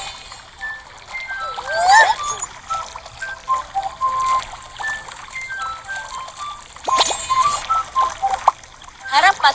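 In a children's cartoon, water runs into a bathtub as bright, bubbly splashes and trickles, with chirpy tonal effects in short bursts.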